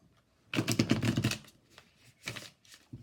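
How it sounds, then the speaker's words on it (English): Tarot cards riffled and shuffled in quick papery bursts, one long run followed by two shorter ones, close up with no talking. "I'm doing my standard 3 shuffles"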